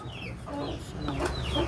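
Chickens cluck softly and irregularly at close range, a sick bird among them suffering from a snoring respiratory illness, with low background rumble and no talking.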